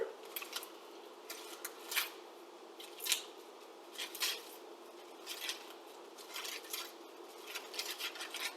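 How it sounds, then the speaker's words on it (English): Fresh spinach leaves torn by hand into pieces and dropped over eggs already in the pan, giving soft crinkly rips and leafy rustles in brief bursts at a close, quiet level. "Just go ahead and tear it up into pieces and dump it in on top of the eggs"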